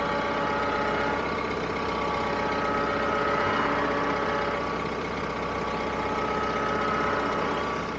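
A tractor fitted with a heavy box blade idles in a steady, even drone that holds throughout at moderate volume, with no voices.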